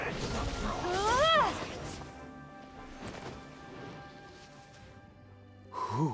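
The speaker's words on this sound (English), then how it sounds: "Yes, I hear you meowing." A cat character in the video game Genshin Impact gives a loud rising-falling meow-like cry near the start, followed by quieter game sounds and a second short cry at the end.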